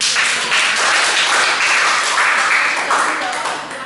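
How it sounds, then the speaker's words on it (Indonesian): A classroom audience applauds in a steady, dense wash of clapping that stays loud throughout and eases slightly at the end. "kemudian berikan tepuk tangan untuk Fania dan Hania."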